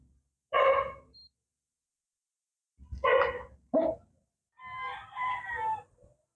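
A dog being treated at home for distemper, isolated on a rooftop with another dog, gives several loud close barks in separated bursts, including a quick double bark and a longer drawn-out yelp, with silence between them.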